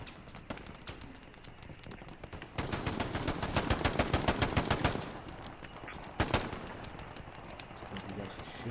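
Rapid bursts of gunfire in the World War II shooter game Hell Let Loose, loud and dense automatic fire with sharp single shots, with a voice speaking beneath at times.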